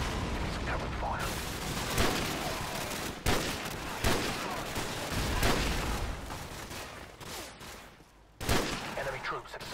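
Gunfire in the video game Modern Warfare: repeated loud shots and bursts crack out across the scene, with sharp blasts at irregular intervals and a soldier's voice calling out partway through.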